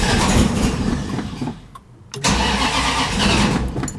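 A Plymouth Barracuda with no choke cranks cold, stumbles and drops briefly, then catches and settles into a loud, rough steady run close by.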